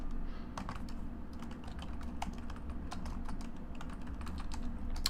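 Typing on a computer keyboard, a steady stream of quick, light key clicks at close range over a low background hum, with no voices.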